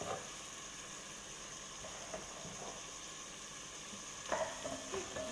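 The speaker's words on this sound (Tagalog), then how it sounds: "Lagay ang garlic. Tsaka onion." Garlic and onion fry in a pan, giving a quiet, steady sizzle throughout with a few brief clinks or stirring sounds near the end, and no one talking.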